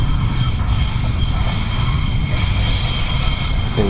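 Train running on railway tracks near Kenilworth Junction and Leamington, a loud close rumble with rolling wheel noise and high metallic squeal throughout.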